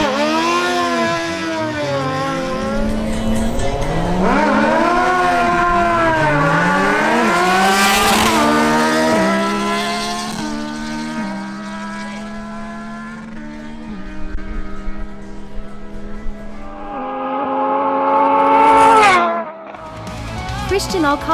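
A Yamaha MT-09 and a Suzuki GSX-S750 launch side by side in a drag race. Their engines rise hard through repeated upshifts, loud and close, then fade as they pull away.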